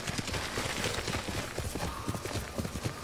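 Horse hooves galloping in the video game Ghost of Tsushima, a rapid, steady clip-clop beat running throughout at moderate level, with a voice faintly under it.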